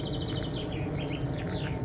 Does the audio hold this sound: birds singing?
yes